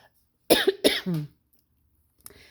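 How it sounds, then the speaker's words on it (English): Two sharp coughs in quick succession, close and fairly loud, followed by quiet and a faint rustle. "No, that is not Corona cough."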